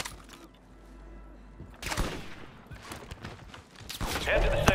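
Gunfire in Call of Duty Resurgence, with bursts of shots and sharp cracks rising late in the clip, beneath a quieter stretch and players' voices talking over the action.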